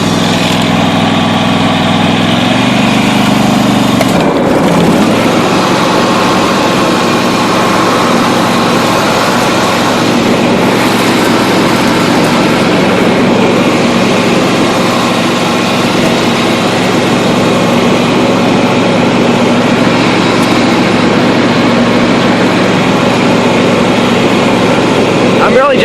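A John Deere riding lawn mower engine runs steadily and loudly close by through a test cut, a continuous motor drone with a brief shift in pitch early on.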